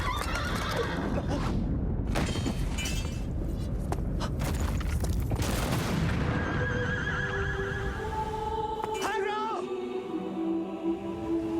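Agro the horse from the video game Shadow of the Colossus whinnies amid loud, dense game action and hoofbeats, with a long, wavering neigh rising clearly near the end.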